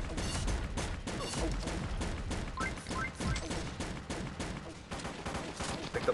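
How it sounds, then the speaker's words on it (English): Rapid bursts of video game gunfire from Pixel Gun 3D in an online match, dense repeated shots and fusillades across the whole stretch, loud and busy with clattering weapon effects and thuds. "Stop shooting me."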